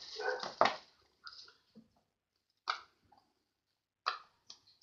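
A shop's dog barks a couple of times, then lets out short whimpers and yips in scattered bursts separated by silence, close by.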